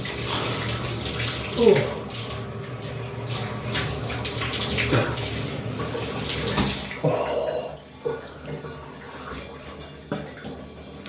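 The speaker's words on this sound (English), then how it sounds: "So I take a cold shower." Cold shower water runs in a steady broadband rush throughout, with a man's brief exclamation near the start and occasional bumps as the spray shifts.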